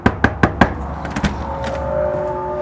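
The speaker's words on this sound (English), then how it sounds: "knock on the door" Four sharp knocks on a door in quick, even succession, followed by a couple of softer taps and a low steady hum, heard close and without talk.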